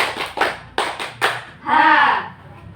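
A peer counseling group claps together in a counting game, a few quick unison claps followed by a voice speaking over a quieter background.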